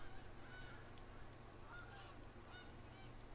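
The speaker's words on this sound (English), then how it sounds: "Cue the geese for geese noises." Geese honking in the hunting video game Call of the Wild, a faint repeated chorus of honks over a steady low ambient hum.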